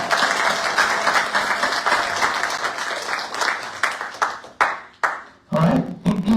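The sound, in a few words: audience applause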